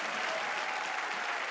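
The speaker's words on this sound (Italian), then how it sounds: "Facciamo un applauso." A television talent-show audience in Italy gives a continuous, even round of applause, a soft, distant-sounding wash of many hands heard alone for a second and a half.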